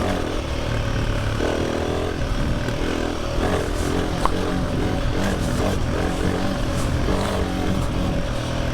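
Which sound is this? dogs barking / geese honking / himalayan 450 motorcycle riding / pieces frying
himalayan 450 motorcycle riding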